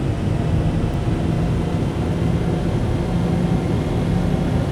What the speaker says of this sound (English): If you listen carefully, an inertia wheel is slowly powering up, building energy.